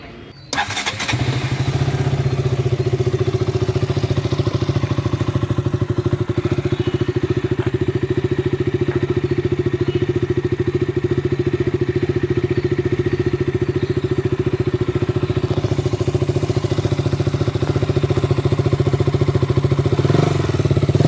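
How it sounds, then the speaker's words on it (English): A KTM RC 200 motorcycle, a BS4 model, starts with a short burst and then settles into a steady, loud single-cylinder idle that runs on for about twenty seconds, close to the listener. "now check out the engine sound, and I'll start up the engine"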